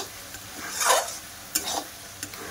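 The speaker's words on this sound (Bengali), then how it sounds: "এবার মাছটা এইভাবে জাল দিতে থাকবো।" Lote fish (Bombay duck) being stirred in a pan for a spicy village-style jhuri: a steady soft sizzle under several scraping stirs, the loudest near the start and a couple of sharper strokes later, close and with no voices.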